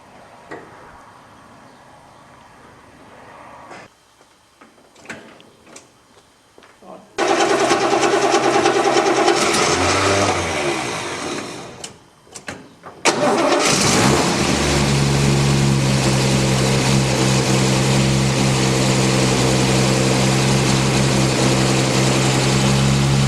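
An EK Holden ute engine cranks and catches at about seven seconds, runs loud for several seconds, stumbles briefly, then settles into a steady, strong idle close by with a low rumble.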